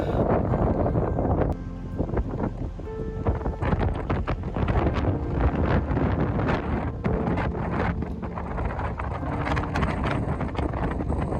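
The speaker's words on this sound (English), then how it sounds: "the wind was belting the tent. You could probably hear it in the clips, but it was going for it." Strong wind blasting a hilltop on the coast near Towan Head and Fistral Beach, heavy continuous buffeting roar against the microphone with gusty surges, loud and close throughout, no voices.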